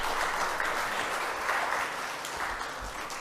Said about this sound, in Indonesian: Kita tepuk tangan untuk Tarumanegara.